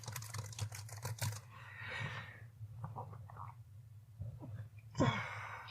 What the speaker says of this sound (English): Let me just type in some of your results right here.